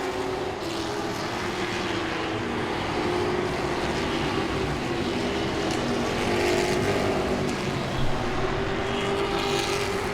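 Grand Stock division stock cars racing at Langley Speedway, with a loud, steady roar of several engines droning and swelling as the field circles the track, filling the whole stretch without a break.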